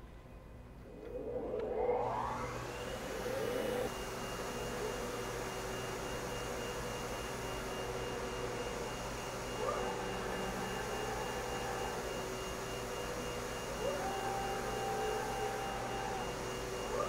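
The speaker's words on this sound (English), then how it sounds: "we would simply turn on our vacuum, which is going to be very loud" The vacuum table of a Fluid Color R84F Turbo UV flatbed printer runs with a loud, steady whine and airy roar, holding evenly after starting up, with faint tonal shifts now and then.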